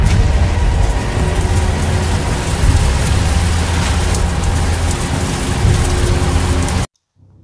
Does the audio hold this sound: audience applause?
no